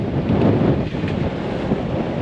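Rough sea waves and wind on a boat make a dense, continuous low rush with heavy microphone buffeting, loud and close throughout, with no voices.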